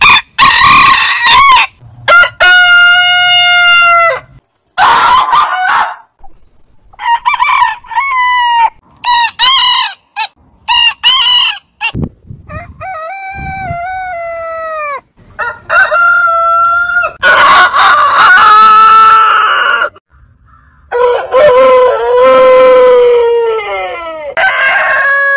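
Roosters crowing in a series of long, drawn-out crows, loud and close, one after another with brief pauses between, no talk.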